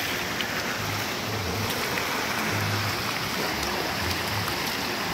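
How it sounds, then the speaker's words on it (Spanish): Water from a spring rushes and gurgles steadily close by, a constant bright splashing flow with no voices. "Es como un nacimiento de agua"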